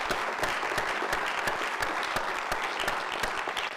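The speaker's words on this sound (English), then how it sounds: "We'll have one final round of applause for our winners." Steady applause from the audience for the winners at a public speaking grand final, continuous dense clapping with sharp individual claps standing out, sustained throughout.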